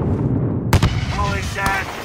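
A grenade blast in a Call of Duty Modern Warfare embassy mission, one sudden loud boom over rumbling battle noise, quickly followed by a second sharp crack, with a voice shouting during the fight.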